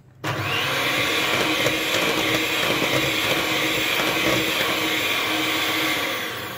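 Electric mixer running at low speed through batter for a traditional Yazdi cake, a steady close whirring drone that starts abruptly and holds evenly to the end.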